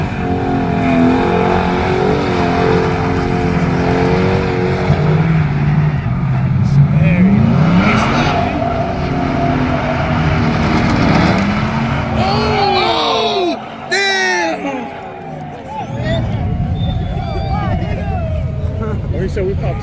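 A pickup truck does a burnout at a truck meet, its engine revving hard amid tire squeal and screeching, with other vehicles roaring nearby and people talking throughout.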